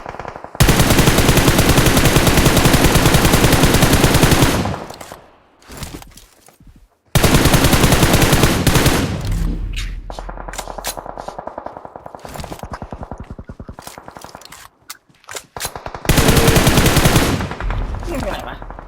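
Dense automatic and rapid gunfire from the battle royale game PUBG, in loud sustained bursts separated by brief gaps, with quieter scattered shots and clatter in between.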